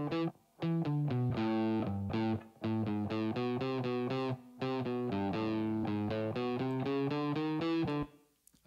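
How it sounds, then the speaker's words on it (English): Electric guitar in a song mix plays a run of distinct sustained notes with a reverb tail trailing behind them, bright and upfront, with brief gaps between phrases and a fading wash at the end. "Let's listen to the reverb on that guitar."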